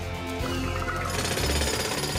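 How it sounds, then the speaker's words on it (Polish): A jackhammer in a PAW Patrol cartoon rattles in a loud, continuous, rapid pounding burst at close range, with no talk over it. "Młot pneumatyczny!"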